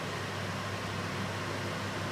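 A steady mechanical whir and airy hiss from a workshop suction unit running at its medium intensity setting, with a low hum underneath.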